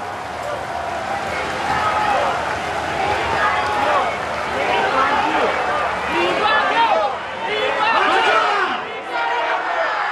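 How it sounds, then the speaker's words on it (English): Large funeral crowd for Lee Kuan Yew's cortege, many voices shouting and calling out together in a dense, continuous roar of emotional chatter, steady and loud throughout. "sounds of crowds shouting emotionally"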